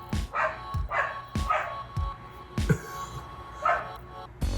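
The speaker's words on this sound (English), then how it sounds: "There's a dog outside been barking" A dog barks repeatedly outdoors, sharp and fairly close, about eight barks at an irregular pace with short gaps between them.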